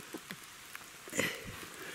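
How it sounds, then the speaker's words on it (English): Soft rain patters on a surface, with scattered individual drops ticking irregularly against a faint steady hiss; quiet and close. "it's raining again"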